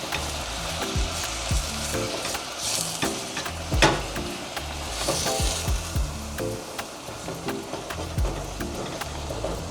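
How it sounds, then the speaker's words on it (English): Minced meat sizzles steadily as it browns in a hot pan for a Nigerian pancake filling, with a dense frying crackle and occasional spoon scrapes and stirs close by, no voices. "I'm going to add our minced meat. Now we're just going to let this brown and cook properly"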